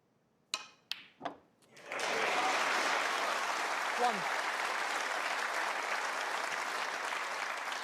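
A few sharp knocks, then steady applause from a snooker audience at the Tour Championship 2024 final breaks out and continues evenly to the end, with faint voices underneath.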